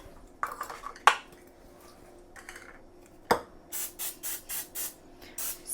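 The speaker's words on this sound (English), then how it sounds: "To oil my hands, I usually just spray them with Pam." Cooking spray from an aerosol can, Pam, sprayed onto bare hands: a rapid series of about five short hissing bursts near the end, preceded by scattered clinks and knocks of kitchen handling.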